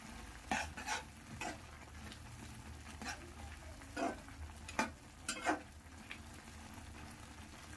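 A spoon stirs veg Maggi noodles with masala in a pan, giving a series of soft scraping, clattering strokes over a faint sizzle, close and quiet.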